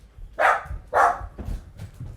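A pet dog named Shambles barks indoors, giving two loud close barks followed by a couple of softer, quieter ones over a low background rumble.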